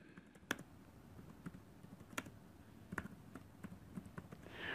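Typing on a computer keyboard while entering text in a Word document, with scattered soft key clicks at an uneven pace over quiet background, no talking.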